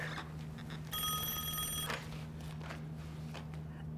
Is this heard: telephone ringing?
yes